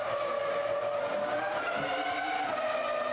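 A Ferrari Formula 1 car at the San Marino Grand Prix around a pit stop for fresh tyres, its engine wailing loud and steady with pitch that rises and falls.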